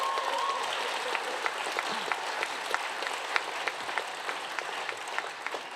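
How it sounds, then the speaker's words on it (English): Audience applause at a literary fiction prize evening, steady clapping from a moderately distant crowd holding an even level for several seconds, with scattered sharper claps standing out. "You can give them an applause, actually."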